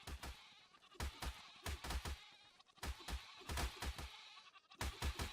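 Goats bleat in the video game ARK, a series of loud, close calls coming in quick bursts and clusters, several overlapping cries repeating every second or so with brief gaps between.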